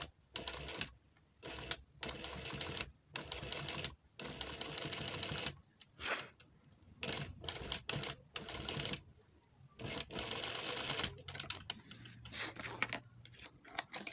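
A sewing machine stitches in short stop-start bursts of rapid rattling needle clatter, separated by brief silent gaps, close to the microphone and fairly quiet, with no talking.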